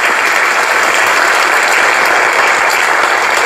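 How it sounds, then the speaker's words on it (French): An audience applauds warmly at the premiere of a new international Morocco tourism campaign, with dense, steady clapping filling the hall throughout without a break. "je voudrais bien qu'on les applaudisse parce que c'est eux les vrais."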